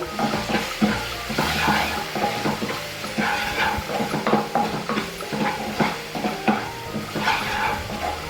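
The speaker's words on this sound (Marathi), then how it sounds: "हा संपूर्ण बॅटर आहे ना व्यवस्थित भाजून घेऊया" A batter with ginger, garlic and chili paste, used for bread pakoda filling, fries in a pan with a steady sizzle while a spatula scrapes and stirs in repeated close strokes.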